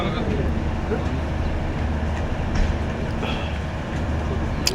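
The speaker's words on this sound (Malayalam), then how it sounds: "ക്രോസിംഗ് ആണ് ട്രെയിൻ." Train passing a railway crossing on the snowy Banihal to Srinagar line, a steady low rumble of rolling wagons held at an even level throughout, with faint voices in the background.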